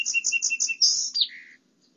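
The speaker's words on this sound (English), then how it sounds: "Now, song sparrows don't usually sing here." A song sparrow sings one clear phrase: a run of five quick repeated notes, then a brighter trill and a final lower buzz, close and crisp before falling silent.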